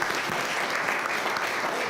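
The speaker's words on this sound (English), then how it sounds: "Just want everybody just give them another round of applause." A room full of people claps in a dense, steady round of applause at a business talk, close and sustained with no pauses.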